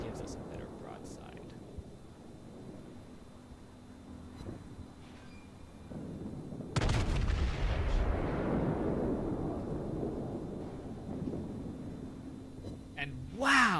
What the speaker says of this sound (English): And wow! 2 citadels. That was a nice salvo.